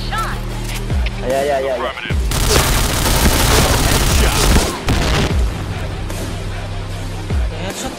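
Grenade blasts and gunfire in the Point Blank shooter on the Luxville map, a dense roaring burst of explosions and shots lasting a few seconds, loud and close, with voices talking around it.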